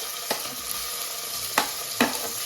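Onions and tomato frying in a pan, a steady close sizzle with a few sharp stirring clicks breaking through, no voices.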